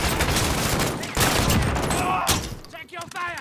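Video game gunfire from Call of Duty Warzone, dense bursts of shots running through most of the moment, loud and close, with game voice lines calling out over the fire.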